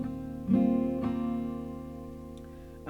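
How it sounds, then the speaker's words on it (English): Acoustic guitar picks three low bass notes, then strums a brighter upper chord, the notes ringing and slowly decaying, close and clear with no voices. "you essentially pluck your bottom 3 bass notes"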